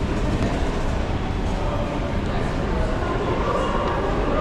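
A Toronto TTC subway train rumbles loud and steady with dense rail noise, sustained throughout under speech.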